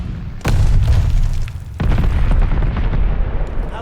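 Two heavy grenade blasts in a video game boom one after the other, each a sharp, loud crack that rolls into a long rumbling tail.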